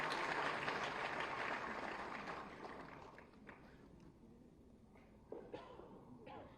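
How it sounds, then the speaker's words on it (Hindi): Loud applause from a crowd at a government loan-distribution ceremony for street-vendor and self-help-group beneficiaries, strong at first and then fading to scattered claps. "जोरदार तालियां होनी चाहिए"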